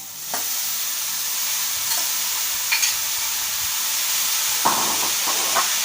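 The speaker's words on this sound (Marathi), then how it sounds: "कांदा आणि मिरची आपली परतवून झालेली आहे। आपण चिरलेली भाजी टाकूया" Chopped drumstick leaves hit a pan of frying onion and green chili, and a steady hiss of sizzling follows, broken by several sharp scrapes and clinks of a spatula stirring.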